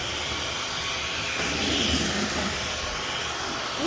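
A Dyson V15 cordless vacuum motor ramping up as it picks up dust, a loud continuous high-pitched whine that rises slightly in intensity midway, close by with no talking.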